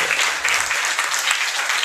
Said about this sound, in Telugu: అందరు చప్పట్లు కొడదాం ఒకసారి